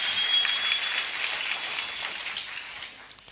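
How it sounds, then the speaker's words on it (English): Audience at a seminary commissioning ceremony applauding graduating students, a short, soft wash of many hands clapping that fades out toward the end. "Let us give them an applause."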